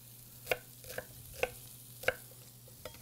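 A small chopped onion goes into a hot pan and gets stirred, giving a soft sizzle under a few sharp scraping clicks of a utensil against the pan, close and fairly quiet.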